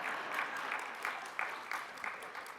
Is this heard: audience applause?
yes